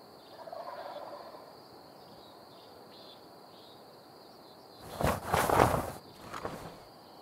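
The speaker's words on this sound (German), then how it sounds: "Da läuft halt so ein Truthahn," A wild turkey gobbles in the hunting game Hunting Simulator 2, a rattling burst of gobbles rising out of a quiet outdoor ambience with insect chirps and faint footsteps.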